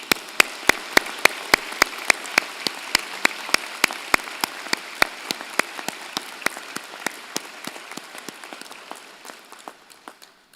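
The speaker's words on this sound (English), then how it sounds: "round of applause." Applause at a university convocation ceremony, heard as a soft bed of clapping with many sharp individual claps standing out, continuing steadily and easing slightly toward the end.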